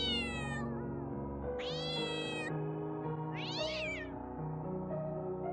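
Recorded cat meows played near a pet cat named Lilith: three drawn-out, rising-and-falling meows, loud and close, with pauses between them over a steady low background hum, and no talking.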